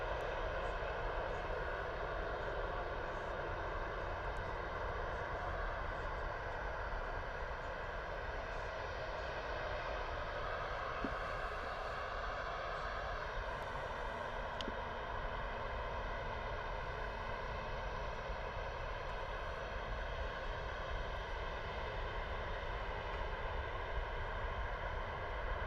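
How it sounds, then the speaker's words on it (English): An EasyJet airliner at Bristol Airport rolls out for takeoff, its engines a steady, sustained roar with a constant whine held evenly throughout, with no talk over it. "EasyJet are rolling out, so we'll spin around and get the rotation in just a moment."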